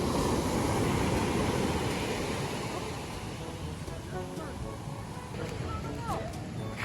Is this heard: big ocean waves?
yes